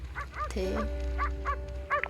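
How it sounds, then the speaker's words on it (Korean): A dog gives a quick series of short, high yipping barks, about half a dozen in an uneven rhythm, over a low steady background hum. "어디서 개 짖는 소리가 들리는데?"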